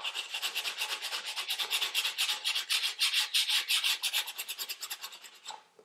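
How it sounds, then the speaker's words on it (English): Sandpaper of 120 grit rubs lightly over waxed milk paint on wood in rapid, even back-and-forth strokes, close and rhythmic, then stops near the end. "120 grit, and I'm actually not sanding too hard yet"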